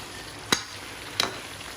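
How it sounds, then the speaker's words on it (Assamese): A spoon stirs a meat curry with pumpkin and black pepper powder in a pot, giving two brief scraping strokes about a second apart over a faint, steady sizzle. "লৰাই ল'ম মই ভালকৈ"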